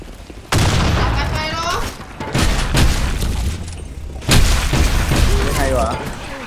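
Grenade blasts in the online shooter BlackShot during a clan war match, three loud booming bursts with gunfire crackle and lingering rumble, with players talking over the action.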